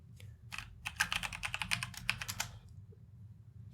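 Rapid clicking of computer keyboard keys in a quiet room, a quick, uneven burst of keystrokes for about two seconds before trailing off into near silence.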